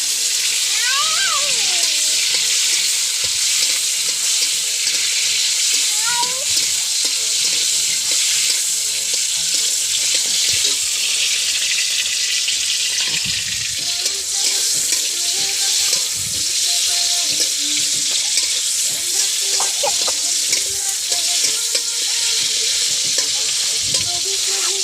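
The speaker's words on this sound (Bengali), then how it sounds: "দেখতে পাচ্ছ লঙ্কাগুলো কিন্তু আমার অলরেডি ভাজা হয়ে গেছে অল্প" Green chillies frying in a pan give a steady, close sizzle with occasional stirring and clinking throughout, with no talking.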